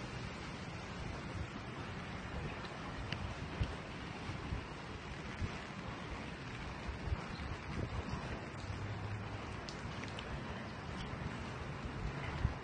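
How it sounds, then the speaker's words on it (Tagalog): Steady broadband roar of typhoon heavy rain with gusting wind, constant and loud throughout, no voices. "napakalakas po ng ulan. Napakalakas ng hangin"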